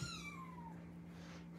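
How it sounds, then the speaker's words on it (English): An indoor kitten gives a single faint, short meow, a thin falling cry at the start, followed by quiet room noise with a steady low hum. "They are indoor kittens."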